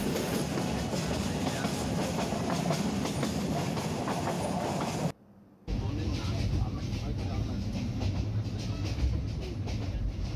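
Passenger train on the Dhaka to Sylhet route near Srimangal tea gardens: steady rolling rumble and clatter of carriages on the rails, briefly cutting out, then continuing a little quieter with a low hum, with talk in the background.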